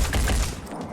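Rapid assault rifle bursts in the Phoenix Point video game, a short cluster of punchy, close gunfire thuds over roughly a second.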